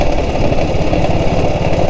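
A 1947 BSA BB31 British military motorcycle idles with a steady, close, loud single-cylinder engine thump that holds evenly throughout, with no talking over it.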